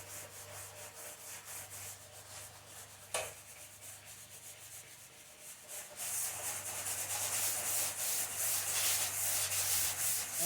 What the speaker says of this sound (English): You need to get them sanded out.